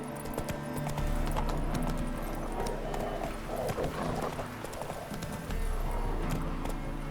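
Hooves of a horse galloping in the game Witcher 3, a fast, steady clip-clop with rustling ambience and a short whinny-like sound, mostly alone with faint background voices.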